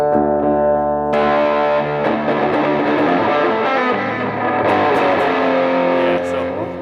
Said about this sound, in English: So you want to drop D and get that chunky sound